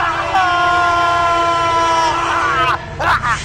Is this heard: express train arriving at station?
yes